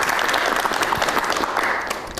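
Steady, full applause from a studio audience on a dating show, continuous dense clapping at close range for a couple of seconds.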